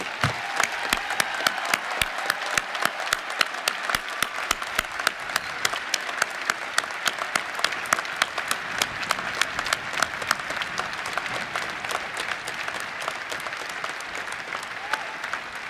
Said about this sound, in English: a round of applause to thank them for their service to our country